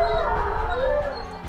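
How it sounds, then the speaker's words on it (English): Several dogs howl together in a wavering chorus, sustained tones rising and falling over a low rumble, fairly close and steady throughout. "We've got a chorus howl."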